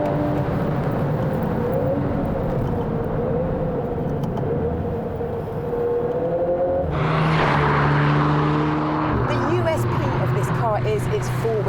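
A 2021 VW Golf R hot hatch engine drones under acceleration, then blips sharply on automatic rev-matched downshifts, with quick rises and falls in pitch while someone talks over it.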